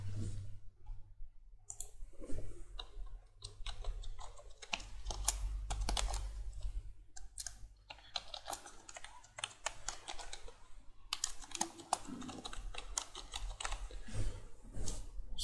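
Code being typed on a computer keyboard, a close, irregular run of crisp key clicks in bursts with brief pauses, over a low steady hum and no talking.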